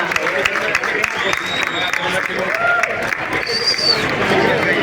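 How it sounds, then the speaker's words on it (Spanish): Crowd at the Villa de Navia cider festival clapping and cheering, a steady mass of applause mixed with babble and occasional shouts, with a voice speaking over the noise. "Venga, un aplauso que no se diga."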